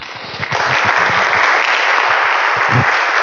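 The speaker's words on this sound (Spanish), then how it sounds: "Dale un aplauso al Señor" A church congregation applauds the Lord after a prayer, a dense, loud wash of clapping that holds steady, with a few low thumps and murmurs underneath.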